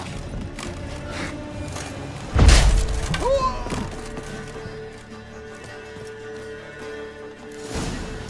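In The Witcher 3: Hearts of Stone, a sudden heavy explosion boom hits a couple of seconds in, followed by rumbling debris and clatter, then a quieter background before another thud near the end.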